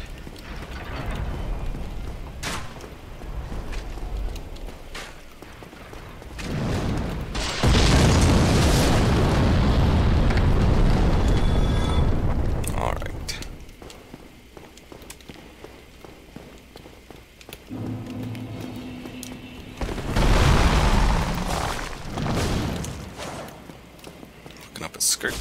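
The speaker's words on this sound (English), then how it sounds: "I just heard random explosions." Deep booming explosions from the Dark Souls video game roll out in heavy sustained bursts, alternating with quieter stretches of footsteps, clanks and faint whispery game ambience.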